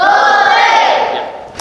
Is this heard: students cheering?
yes